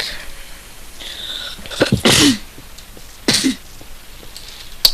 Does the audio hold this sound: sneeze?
yes